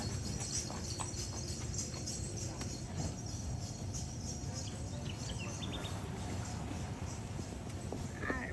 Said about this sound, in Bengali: এই যে ঘোড়ার গাড়ি যাচ্ছে ঘোড়ার গাড়ি দিয়ে আমরা